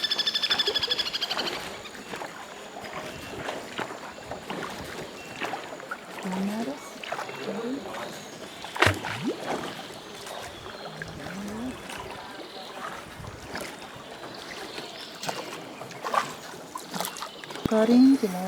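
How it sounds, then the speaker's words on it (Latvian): Small rowboats moving through a cave tunnel in Vietnam, with soft paddle splashes and water trickles at a steady, moderate level while people talk throughout. "Visam malām izlien laiviņas."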